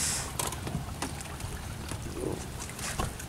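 Sea waves washing around a small fishing boat off Losari, with a constant broad rush of water and wind noise through the whole stretch, near and steady.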